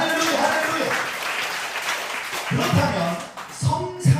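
Applause from a church congregation during a sermon, a broad wash of clapping that swells again toward the end, with voices mixed in.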